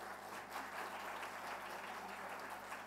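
Audience applause at an education conference session: a steady, even wash of clapping from a large crowd, heard at a distance and fairly faint, unbroken for a few seconds.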